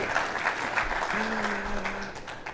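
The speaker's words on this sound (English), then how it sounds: "A round of applause for the fact that tech actually works." Audience applause at a live-streamed business talk, a dense steady wash of many hands clapping throughout, with a faint tonal hum running through the middle.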